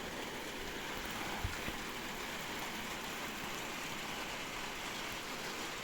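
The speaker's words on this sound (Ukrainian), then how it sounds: "Дощ полоще, а ми йдемо." Steady, soft hiss of rain falling, a continuous wash of drops with no voices, with a couple of faint low thumps early on.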